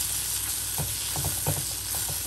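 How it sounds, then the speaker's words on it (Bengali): Spices being stirred into a fish curry in a hot pan, giving a steady close sizzle broken by a few soft scraping strokes of the spoon. "অ্যান্ড এবার চটপট মিশিয়ে নেব"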